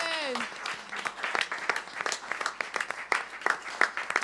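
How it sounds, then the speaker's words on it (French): A church congregation claps their hands together in quick, uneven bursts of applause mixed with voices and calls, the clapping close and lively throughout. "en battant des mains, en applaudissant pour honorer notre Seigneur"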